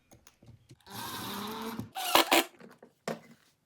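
A power driver whirs in a short burst as a screw waxed with chapstick goes into the edge of a wooden flat-pack dock piece, followed by louder grinding bursts and scattered small clicks and knocks close by.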